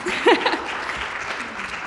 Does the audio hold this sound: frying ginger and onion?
no